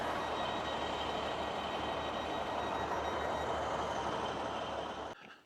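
A train on the Long Mynd area line in Britain rumbles past close by for several seconds, a loud, continuous roar of wheels on rails that drops away abruptly at the end.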